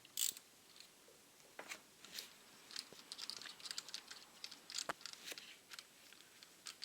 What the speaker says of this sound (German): Ich mache erstmal die Schrauben auf.